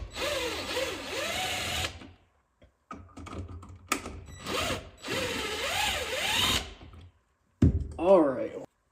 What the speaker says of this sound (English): we're going to want to take off the mounting bracket here.